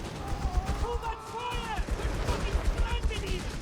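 British machine gun fire rattles in the Company of Heroes 3 strategy game, bursts of rapid gunfire under someone commentating over the match.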